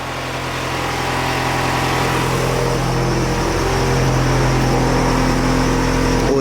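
A car with a large exhaust leak and a cut-off O2 sensor idles loudly and steadily up close, its deep rough drone holding level with a slight rise in pitch partway through.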